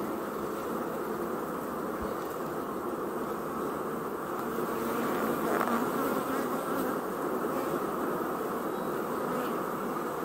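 Honeybees buzz in a dense, continuous drone while a beehive is opened for inspection, steady and close throughout with no speech.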